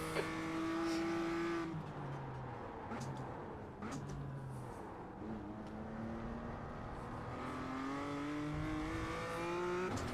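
BMW M2 race car engine in the iRacing simulator at Snetterton, revving up and down through gear shifts with a bright harmonic whine, tyre noise and other cars audible nearby, steady and fairly close.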